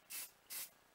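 Hairspray aerosol sprayed onto curled hair, held at a distance: two short hissing bursts in quick succession, fairly close, with a brief pause between them and no talking.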